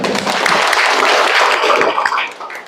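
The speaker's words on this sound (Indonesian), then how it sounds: "Oke, tepuk tangan untuk kita semua." A seventh-grade classroom bursts into a short round of clapping, a dense, close patter of many hands that fades out after a couple of seconds.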